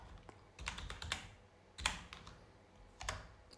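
Computer keyboard keys are pressed in a quiet room: a handful of soft, separate clacks and taps at uneven intervals, close and faint, with no voice.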